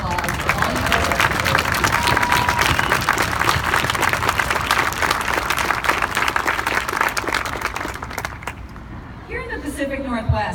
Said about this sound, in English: Can we give them all a round of applause for all of their work?